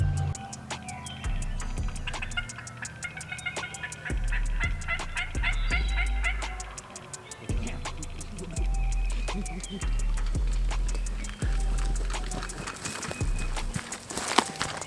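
Wild turkey gobblers calling at a gun range on a hill, their gobbles ringing out in repeated bursts against steady background noise, with a rhythmic ticking also present.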